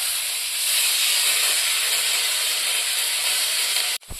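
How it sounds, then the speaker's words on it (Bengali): Soaked masoor lentils fry in a pan with a constant, fairly loud hiss of sizzling oil that holds steady and then cuts off sharply near the end. "ডালটা খুব সুন্দর ভাজা হচ্ছে"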